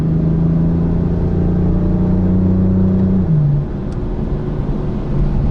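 BMW M car at full throttle in fifth gear on a track at the BMW M Performance Center, a loud sustained engine drone from inside the car with a brief pitch drop near the end, no talk.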